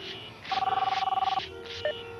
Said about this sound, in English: Yeah, let it ring.